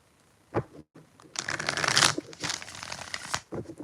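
Tarot cards shuffled by hand, a few short riffling bursts and a longer run of papery slapping and crinkling, close up with no talking.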